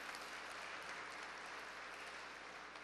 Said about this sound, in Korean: 김진표 원내대표님께 다시 한번 격려의 박수 부탁드리겠습니다